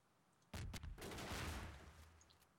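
Cannon fire in a Garry's Mod pirate ship battle: a loud, close burst of booming shots, two quick blasts followed by a heavy sustained rumbling volley that slowly fades.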